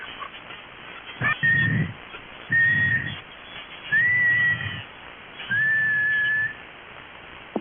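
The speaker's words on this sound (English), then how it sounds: "Well, we got a whistle out there." A series of four steady whistled tones comes through a narrow, hissy shortwave radio channel on 7.200 MHz LSB, each lasting about a second with short gaps between.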